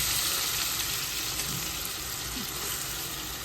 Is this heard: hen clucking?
no